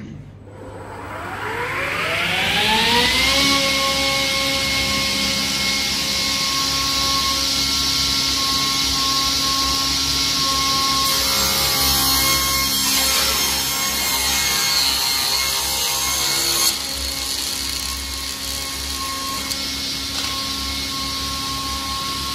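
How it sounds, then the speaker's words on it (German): Circular saw with a blade guard spinning up and cutting along the grain of wooden battens, a loud, steady high-pitched motor whine that ramps up over the first few seconds and then holds a continuous cutting roar. "in dem Moment kann man die Säge so auch starten und dann sollte das ordentlich funktionieren"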